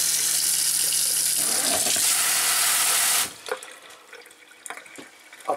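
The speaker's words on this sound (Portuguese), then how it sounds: "Você abre a água. Você pode lavar a louça." Tap water gushes steadily into a large, deep kitchen sink in a 2023 Winnebago 2108DS RV, loud and continuous for about three seconds, then cuts off, leaving faint clinks and small handling sounds.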